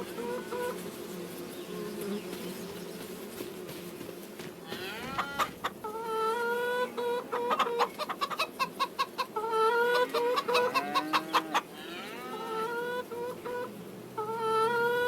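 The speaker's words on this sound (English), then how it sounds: "Let's go look at our chickens." Chickens in the Farming Simulator 25 video game cluck and squawk repeatedly in a busy farmyard, with rapid rhythmic calls and a steady buzzing drone underneath, fairly close and loud with no talking.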